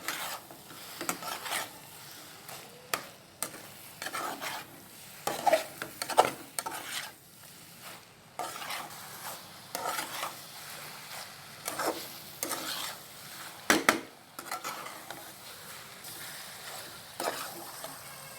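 Pizza topping is stirred in a Teflon pan, with repeated scraping and rubbing strokes of a utensil against the nonstick surface and a faint sizzle between them, close and intermittent.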